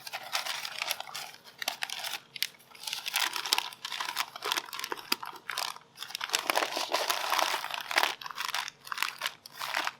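Smoked ribs are tucked into stiff butcher paper, producing a close, continuous crinkling and crackling with bursts of louder rustle and folding, heard alone without talk.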